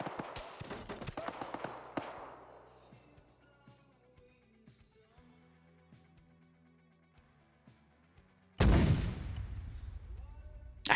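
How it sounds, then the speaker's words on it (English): Artillery fire in a military video game: a dense burst of sharp blasts at the start, a quieter stretch of distant rumble, then one loud close explosion near the end. "I have artillery right here"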